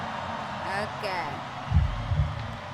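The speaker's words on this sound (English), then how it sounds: "It's a heartbeat." A slowing heartbeat from a music video comes through as two low, soft thuds beneath a hazy ambient wash.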